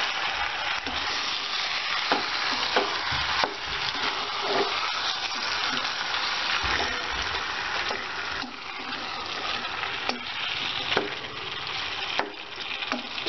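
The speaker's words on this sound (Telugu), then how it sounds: "చికెన్ని బాగా ఫ్రై చేసుకోవాలి ఆయిల్ బటర్లో." Half a kilogram of marinated chicken with salt, turmeric and chili sizzles in hot oil and butter for butter chicken, a steady close frying crackle with occasional pops and stirring, no voices.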